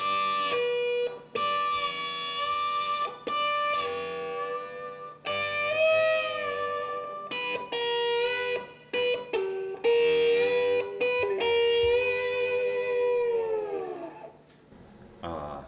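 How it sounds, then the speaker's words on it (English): Open G slide guitar playing sustained, gliding notes that bend and whine between pitches, the slide tilted for a sweeping, Hawaiian-style whine and fading tail. "I even tilt the slide to imply other chords or do that kind of Hawaiian whine thing"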